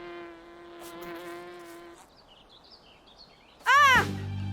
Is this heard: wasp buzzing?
yes